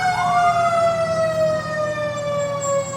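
Fire department ladder truck in a Christmas parade sounding its siren, a loud steady wail with a slowly falling pitch sweep, close and continuous over crowd ambience.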